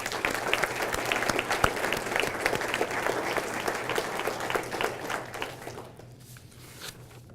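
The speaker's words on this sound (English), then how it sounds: "I would like to give a round of applause for everybody that was nominated this year" A crowd at a township State of the Township meeting applauds volunteer nominees, sustained dense clapping that fades away toward the end.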